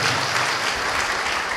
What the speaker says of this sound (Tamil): கரங்களை தட்டி நம்ம ஆண்டவருக்கு நன்றி சொல்லுவோம்